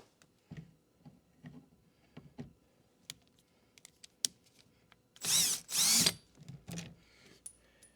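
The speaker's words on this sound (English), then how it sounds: "It's time to get some power tools." A loud power tool whirs in two bursts of about a second each, with scattered knocks and clicks of work before and after, during window regulator replacement on a 2008 Honda Pilot.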